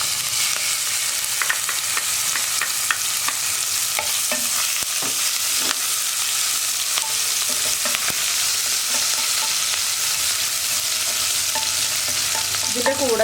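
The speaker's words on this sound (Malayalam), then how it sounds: "വെളിച്ചെണ്ണയിലേക്ക് ഞാനിപ്പോൾ ചതച്ച് വെച്ചിരിക്കുന്ന ഇഞ്ചിയും വെളുത്തുള്ളിയും പച്ചമുളകും കൂടി ചേർക്കാണ്" Crushed ginger, garlic and green chilies frying in coconut oil, a steady close sizzle with repeated scraping stirs and clicks of a spoon against the pan, no voices.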